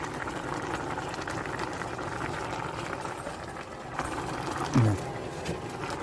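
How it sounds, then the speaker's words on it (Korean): Soybean paste ramen with sliced green onion boiling in a covered pot, a steady low bubbling hiss that runs throughout with a brief louder clunk near the end. "그리고 한 1분만 더 끓여서 드시면 맛있습니다."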